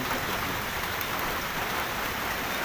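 Heavy rain falling outdoors during a fishing trip, a loud, dense, even hiss of downpour filling the whole moment without pause, no voices.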